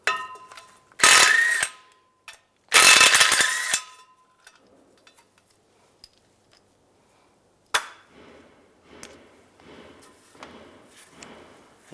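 A ratchet with an 11mm socket backs bolts off a rear main seal cover on a 2007-2013 Chevy Silverado, two loud bursts of rapid clicking near the start, then scattered clinks and softer metallic handling noises close by.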